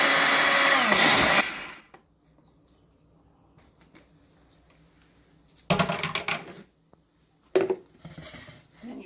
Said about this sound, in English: And you blend all that together.